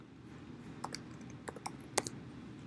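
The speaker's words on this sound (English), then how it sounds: "I forgot to type it in" Soft, quiet clicks of typing on a computer keyboard, a handful of scattered keystrokes over a steady background hiss.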